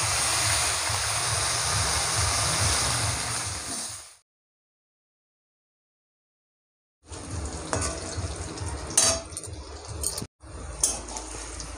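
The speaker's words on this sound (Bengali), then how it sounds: "আলুগুলো আমার ভাজা হয়ে গেছে, পুরো একদম লাল লাল করে ভেজে নিয়েছি।" Potatoes frying in oil in a wok, a close crackling sizzle that cuts out into silence for a few seconds, then returns with scattered clinks and scrapes of a utensil against the pan.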